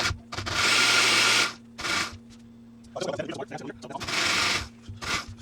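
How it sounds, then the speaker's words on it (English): A kitchen blender whirs through an arroz verde mixture of rice-cooking liquid in several short pulsed bursts, each a loud, close motor whine separated by brief pauses and rattles. "so now I'm going to blend this"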